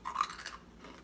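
A few crisp crunching bites on a light, puffy candy snack, close to the mouth and brief, with soft chewing trailing off.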